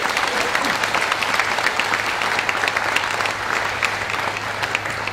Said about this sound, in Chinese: 请给 Mr. Simon Wong 一个掌声